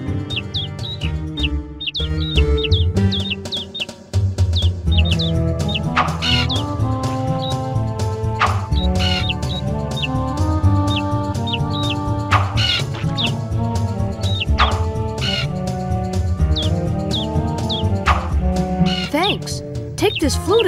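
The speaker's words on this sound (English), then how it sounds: "Can't hang her washing out with all those birds on the line." Chirping birds sound through Aladdin in Nasira's Revenge on PS1, with steady tweets and calls over looping game music, alongside spoken dialogue throughout.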